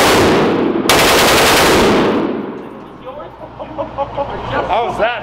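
Real firearms fired outdoors on a range, with a loud, dense burst of rapid automatic gunfire lasting about two seconds, then a ringing decay and quieter knocks and voices afterward.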